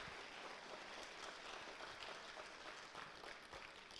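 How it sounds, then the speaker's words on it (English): A crowd at a spring school band concert gives faint, steady applause for the Berkley Instrumental Boosters, an even patter of many hands heard from a distance. "So we'd have a big round of applause for the Berkley Instrumental Boosters, McCourt's Music."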